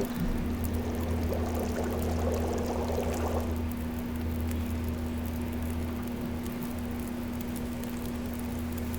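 Water boiling and snow melting in The Long Dark, a steady low bubbling and pouring hiss with a constant hum beneath, a louder patter swelling briefly early on.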